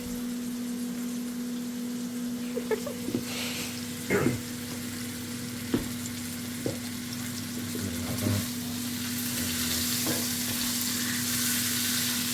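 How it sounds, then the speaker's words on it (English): Tomahawk steak sears in a hot pan with a steady loud sizzle and crackle throughout, plus occasional sharper pops and spits, and no talking. "Just sear that nicely."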